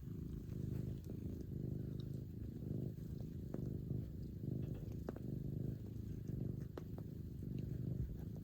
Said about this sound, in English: And I love Theo snuggles and purrs